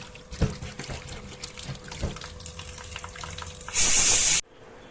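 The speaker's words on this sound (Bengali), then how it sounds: "মটনটাকে আমি এবার ধুয়ে নিই।" Tap water trickles and splashes while mutton is washed in a sink, with soft handling thumps and one loud burst of full-flow gushing near the end that cuts off abruptly.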